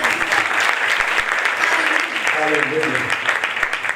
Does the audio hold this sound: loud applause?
yes